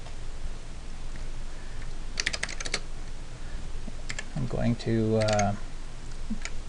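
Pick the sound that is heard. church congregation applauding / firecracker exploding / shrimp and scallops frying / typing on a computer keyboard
typing on a computer keyboard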